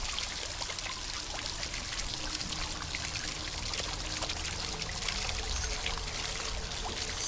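Water from a stone fountain in a hidden-object adventure game pours steadily in a continuous, even splashing rush that stays at the same level throughout, with no talking over it.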